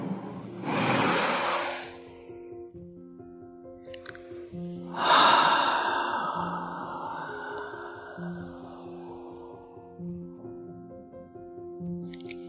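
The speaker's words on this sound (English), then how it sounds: "And another inhale." Two deep, slow inhales during a meditation, close and breathy, the first drawn in for about a second and the second longer, over a soft, steady tonal music bed.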